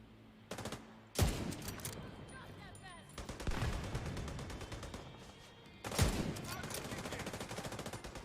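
Gunfire in the video game The Division 2, bursts of rapid automatic shots with sharp loud cracks opening each volley, clattering continuously across the scene.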